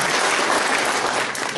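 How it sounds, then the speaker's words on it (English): A crowd at a meeting applauds steadily, dense clapping filling the room at a constant loud level. "if you'd give her a round of applause"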